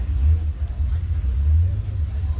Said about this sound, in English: I'm loving the engine here